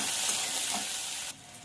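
Chopped onions sizzling in hot mustard oil in a pan, a steady broadband fry with faint stirring scrapes, loud and close, dropping in level near the end, with no talk.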